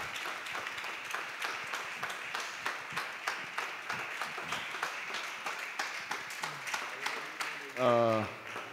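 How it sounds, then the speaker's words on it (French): A church congregation claps their hands in praise with fast, even, rhythmic beats that carry on throughout, with voices over the clapping. "the place we clap our hands and praise God"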